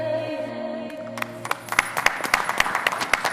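Audience applause for a singer on an Italian TV show begins after her song's final sustained notes, with scattered claps building into brisk, sharp clapping.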